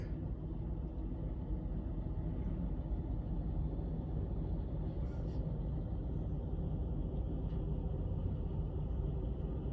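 A truck backing up to hook onto an empty trailer, heard as a low steady engine rumble that stays constant and fairly distant throughout, with no distinct clanks or talk.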